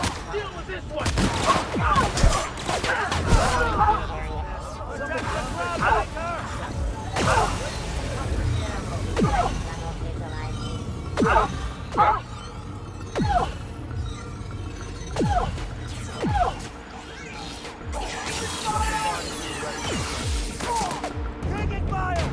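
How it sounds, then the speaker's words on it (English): Dense gunfire fills a firefight in the video game The Outer Worlds, with loud, rapid shots and bursts layered over a busy battle din. "Taking fire."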